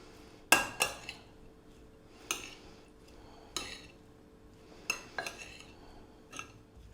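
Utensils mixing a vegan bean salad of rice and red beans with olive oil in a bowl, a handful of bright clinks and scrapes at irregular intervals over a quiet background, with no talk.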